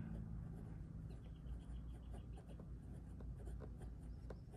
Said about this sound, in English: It's different writing with the fine nib.